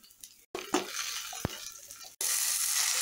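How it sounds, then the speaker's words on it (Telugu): Chopped onions and green chilies fry in a pan for Andhra-style street veg fried rice, giving a steady close sizzle with a short break, a stirring clatter, then a louder, denser hiss at the end. "తర్వాత అందులోనే మనం పచ్చిమిరపకాయలు కూడా వేసుకొని బాగా ఫ్రై చేయాలి"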